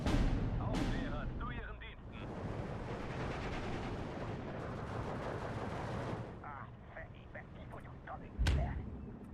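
Explosive bombing of a Katyusha rocket launcher in the Steel Division 2 war strategy game, a loud sustained roar of blasts and rumbling gunfire with sharp bangs near the start and a final loud boom.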